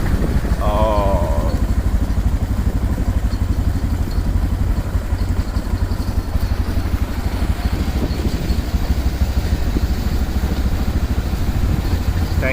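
A motorcycle rides on a village tour through Barichara, Santander, Colombia. Its engine gives a loud, steady, close rumble that runs without a break, with a brief high voice-like warble near the start.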